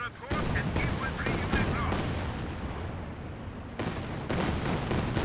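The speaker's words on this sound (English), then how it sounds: "Oh, very nice rocket artillery there." Rocket artillery fires in a multiplayer strategy video game match, a rapid series of loud, booming bursts with a brief lull midway before more salvos hit.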